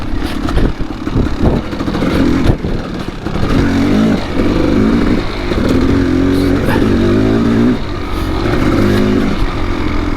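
A Kawasaki KX dirt bike ridden along a leaf-covered mountain single track trail, its engine revving and rising and falling close up, with steady clatter over about ten seconds.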